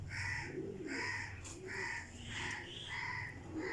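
Golden pigeons coo in a loft with soft, rhythmic, repeated calls about once every half second, close and clear. A low background hum sits underneath.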